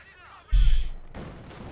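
A single sharp sniper rifle shot cracks out in the Company of Heroes 2 strategy game, a loud abrupt report with a short decaying tail, preceded by faint background talk.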